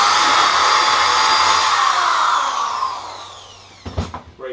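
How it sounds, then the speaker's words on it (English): A 1/4 inch power drill runs loud and steady for a few seconds drilling through a shoe, then winds down, followed by a few clunking knocks near the end. "I'm going to take a 1/4 inch drill and drill through one of the two holes."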